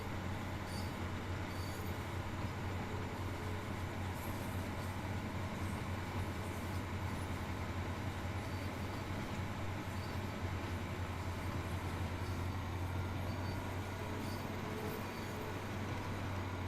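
A train engine from a West Cornwall local service in Train Sim World 3 drones steadily under load on a sharp grade, with a constant low diesel rumble and wheel-on-rail noise, even and unbroken, no talking.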